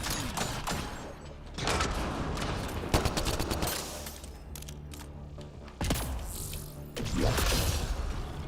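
Gunfire bursts in the sci-fi shooter Mass Effect Andromeda, loud repeated volleys of shots with sharp cracks and impacts in a dense firefight, pausing briefly before resuming.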